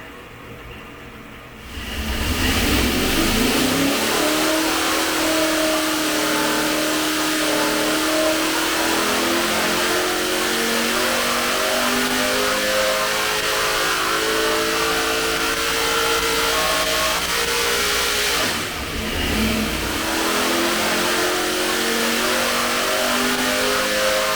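A powerful dirt modified race engine on a dyno roars up and holds a sustained high-rpm howl for many seconds, dips briefly, then revs hard again, loud and close.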